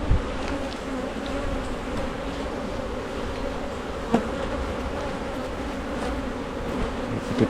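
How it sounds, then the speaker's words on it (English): Honeybees drone in a dense, steady buzz around an open beehive, close and continuous, with a few faint knocks and bumps from handling the frames. "Plenty of bees coming in and going out."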